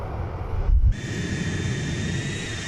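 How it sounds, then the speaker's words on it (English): A steady MD-80 jet engine roar in a flight simulator with a high whine, briefly dipping before rising again into a sustained, spooled-up hum. "We got to be in front of the engines to hear the spool up"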